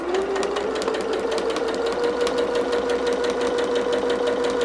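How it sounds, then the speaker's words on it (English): A sewing machine stitches through thick layers of quilt fabric, its needle hammering in a fast, even rhythm over a steady motor hum, loud and close. "just keep it guided to go straight through the machine stitching there, because it is going to want to struggle a bit"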